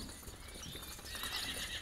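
An Akhal-Teke horse in Ashgabat, Turkmenistan rears and kicks, with a close hoof clatter under a high whinny rising over the last half.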